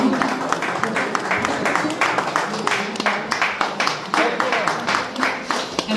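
A farewell and gratitude ceremony for former 1999–2000 tenth-grade students and their teachers, where the audience claps steadily and moderately loud throughout, with a voice faintly audible over the applause.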